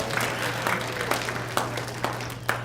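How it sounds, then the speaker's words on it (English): An audience at an outdoor family fun festival magic show applauds, a light scattered clapping with occasional sharper individual claps standing out over a steady low hum, fairly close and moderately loud. "Give her a big round of applause as well"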